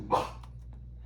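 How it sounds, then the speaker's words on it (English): A dog gives a single short bark or yip at her own reflection in an indoor fireplace, fairly close, then fainter soft vocal traces follow over a low room hum. "That's just my dog seeing herself in the fireplace."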